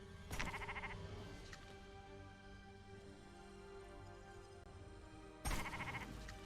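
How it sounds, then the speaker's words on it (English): Two sheep bleats in a video game, one near the start and another near the end, clear and close over a steady low background hum. "Sacrificing the sheep."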